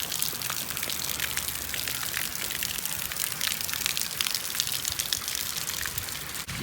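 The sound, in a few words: water flowing down a Hot Wheels water slide track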